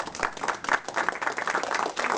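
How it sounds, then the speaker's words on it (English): Audience at a business forum applauds in a brief burst, a cluster of hands clapping with uneven, slightly choppy rhythm, fairly close and loud for a couple of seconds. "You give a big applause to him, please."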